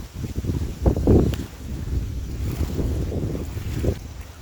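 Wind blows beside the Rupnarayan river, a steady buffeting rush against the microphone with a few louder gusts, close and continuous, with no voices.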